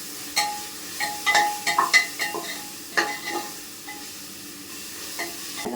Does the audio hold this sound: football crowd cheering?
no